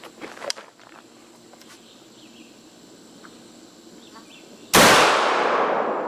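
A Sovran Arms SM3 firearm test-fired once, a single loud, sharp close blast ringing with a long decaying tail after a stretch of faint ambient noise and a few light knocks.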